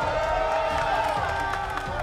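A crowd cheering at a Halo Infinite LAN show match, a dense, continuous wash of voices and shouts held at steady loudness with sustained tones underneath.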